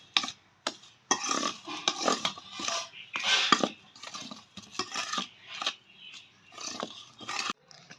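Flour and sugar are mixed in a bowl, with a utensil scraping and knocking against it in quick repeated strokes, close and fairly loud, with brief pauses between bursts.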